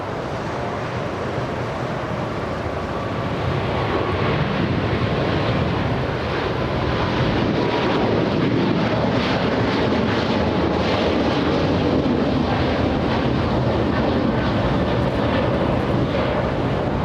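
A Cathay Pacific airliner moving at Los Angeles International Airport gives a sustained broadband jet roar that builds slightly after a few seconds and stays loud and steady, with some wind buffeting on the microphone and no voices.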